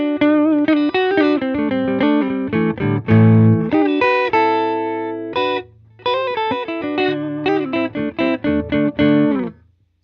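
Electric guitar played through the neck pickup alone, with a warm, round tone playing a lively run of notes and chords, steady and close, with a brief pause near the middle.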